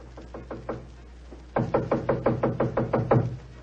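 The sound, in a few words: knock on a door, radio drama sound effect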